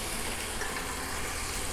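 Water gushing from a tap and pouring into a pot of beans, a steady, soft splashing fill heard close and quiet, with no talk.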